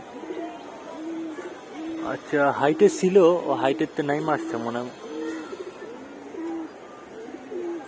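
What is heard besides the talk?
pigeons flying and cooing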